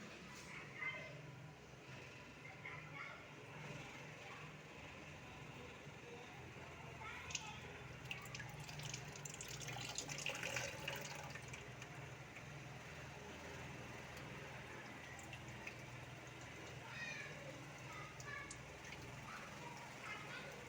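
Steady rushing of water pouring from the product outlet of a 120 LPH commercial reverse osmosis unit during servicing, a continuous hiss-like flow with faint background noise throughout.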